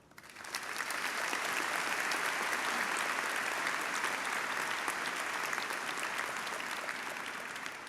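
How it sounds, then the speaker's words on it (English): Warm, sustained applause from the audience at the 2022 Quinnipiac University Frank H. Netter MD School of Medicine commencement swells quickly from a few claps into a broad, even wash of clapping across a large hall. "Please join me in a warm round of applause for these individuals."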